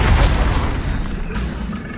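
The Confringo fire spell from Hogwarts Legacy bursts in a loud, close explosive blast that rumbles and decays over about two seconds.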